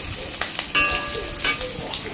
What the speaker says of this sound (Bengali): ওই তেলেই কাঁচা লঙ্কা দিয়ে দিলাম